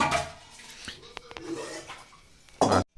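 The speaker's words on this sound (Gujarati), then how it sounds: "આ બાજુમાં તો વાસણ ઘસવાનું ચાલુ છે" Dishes being scrubbed and washed by hand, with scattered clinks of metal utensils and pots against each other, ending in a short louder burst of clattering.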